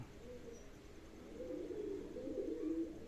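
Pigeons coo softly in a loft, a low rolling murmur that swells and continues steadily throughout, with no voices present.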